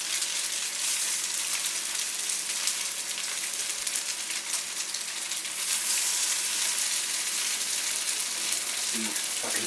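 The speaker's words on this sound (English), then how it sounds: "I'm gonna fry these up for probably a few minutes, maybe 3 to 4 minutes on each side" Vegan longganisa sausages fry in a pan with a steady bright sizzle and crackle throughout, close and constant, with no voices.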